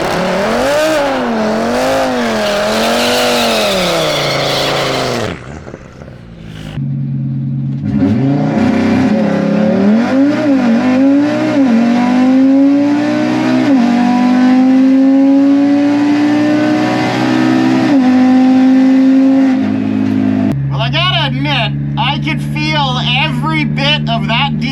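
An Audi RS3 on a drag strip makes a loud, continuous engine roar that climbs through rising revs with brief shift breaks, heard close throughout a full acceleration pass.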